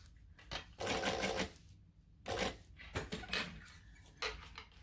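A sewing machine stitches tight curves on a bowler bag in slow, short bursts, with whirring runs broken by pauses and small clicks, heard close and quiet.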